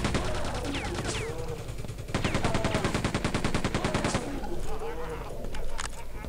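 Rapid machine gun bursts in the first-person shooter Quake 2, firing in two long rattling volleys with a brief pause between, loud and close, with game effects and faint speech around them.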